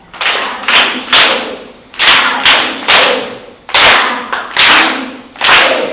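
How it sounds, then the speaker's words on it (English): A small group at a children's devotional session claps in several short bursts, each a flurry of hand claps fading out before the next begins, close and loud. "Jacob and Esau, give him a clap."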